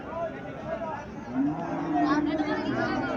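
A Haryana-breed dairy cow at a cattle market in Mirshanni, Cumilla, gives a drawn-out low moo midway through, close by amid a murmur of crowd chatter and market noise.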